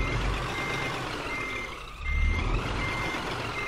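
A truck's reversing beeper in Euro Truck Simulator 2 sounds continuously, a steady high tone over the low rumble of the engine, with a brief dip before the engine swells again.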